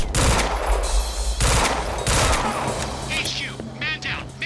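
Gunfire erupts in a Quantum Break shootout, with loud rapid bursts of shots and impacts crowding the first half, then thinning into scattered reports and whooshing effects as shouted voices call out.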